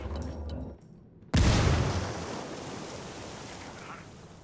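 A grenade blast in the Ghost Recon Wildlands video game, a single sudden loud boom after a brief near-quiet gap, followed by a long rumbling decay that fades slowly.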